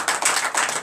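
A church congregation at a French morning prayer service applauds for Jesus in a brief, dense patter of many hands clapping together, steady and fairly close.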